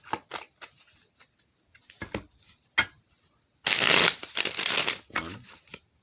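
A deck of tarot cards is handled with a few sharp riffles and taps, then a long, dense burst of rapid shuffling close to the microphone, with no speech.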